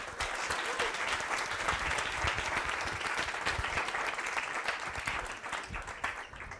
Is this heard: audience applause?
yes